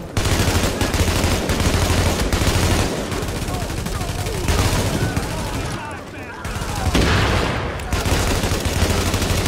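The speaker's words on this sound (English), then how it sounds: "nice shooting there" Sustained gunfire from a firefight in the video game The Division, dense rapid shots continuing almost without pause over game effects, with brief voices mixed in.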